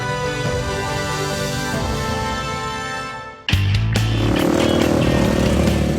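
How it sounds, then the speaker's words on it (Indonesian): Trail motorcycles roar along a beach shore, a loud steady engine drone that cuts off briefly and then returns as a close, revving growl, with no voices. "Deru suara motor memecah keheningan. Sejumlah pesepeda motor trail beraksi di pesisir pantai."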